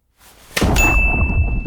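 A single bright notification bell ding rings out loud and close after a soft lead-in, its clear metallic tone sustaining and slowly decaying alone.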